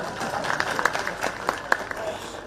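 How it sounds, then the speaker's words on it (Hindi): Audience at a political rally in Dalhousie applauds with steady, mid-distance clapping from a crowd while a speaker's voice carries over it. "महिलाओं को ताली बजानी चाहिए"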